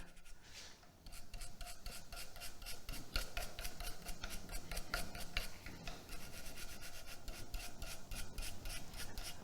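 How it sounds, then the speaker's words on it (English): A brush working coloured wax into a wood surface, producing a continuous close, rasping rub with rapid back-and-forth strokes, steady and unaccompanied by speech. "as I'm working the brush around, rubbing it more, it's helping to bring some of the shine out"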